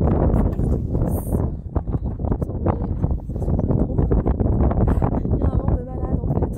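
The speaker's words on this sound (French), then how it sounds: "Il y a un vent de malade en fait." Strong wind at the seaside buffeting the microphone, a loud continuous low roar and rumble with gusty surges, while someone speaks over it throughout.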